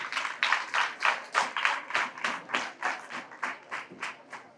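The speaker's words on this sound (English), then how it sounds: "clap for them" Students and staff at a school event clap in slow, rhythmic unison, a dozen or so firm claps at an even beat, close and without voices.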